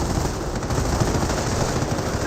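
Sustained gunfire peppers a Panther tank in the Company of Heroes strategy game, a dense, continuous rattle of shots and battle noise that fills the whole stretch at high level with no pause.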